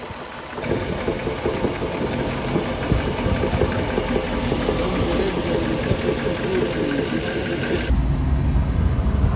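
A 1965 Ford Mustang convertible with a V8 runs steadily at a loud, close idle, a continuous rough rumble that shifts slightly in tone near the end.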